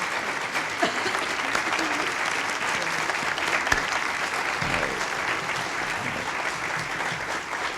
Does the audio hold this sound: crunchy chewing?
no